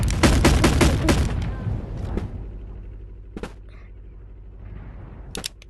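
Rapid gunfire from a weapon in the VR game Animal Company crackles in a quick burst of close, sharp shots, then a few isolated single shots follow after quieter gaps.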